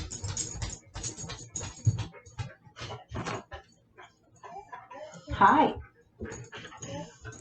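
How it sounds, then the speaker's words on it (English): Dog whimpering and barking in a home, short whiny yelps and vocal bursts scattered through the background while a person speaks nearby. "I apologize if you can hear the dog barking in the background."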